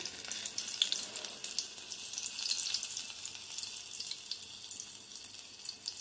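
Chicken pakodi pieces fry in hot oil over a low flame, giving a steady, moderately soft hiss and crackle with small pops, heard close and alone without talk.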